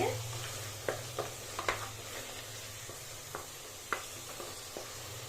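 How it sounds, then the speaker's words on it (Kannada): Chopped tomatoes fry with vegetables and masala for a village-style vegetable pulao, a soft, faint sizzle under a steady low hum, broken by occasional light scrapes and taps of stirring. "ಹಾಕೊಂಡು ಚೆನ್ನಾಗಿ ಟೊಮೆಟೊ ಸಾಫ್ಟ್ ಆಗೋವರೆಗೂ ಫ್ರೈ ಮಾಡ್ಕೊಳ್ಳಿ"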